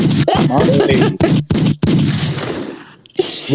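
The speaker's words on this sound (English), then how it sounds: "gunshots for the homie, yo." Gunshot sound effects fire in a loud rapid burst, several sharp cracks in quick succession followed by a decaying echo tail and a final shot.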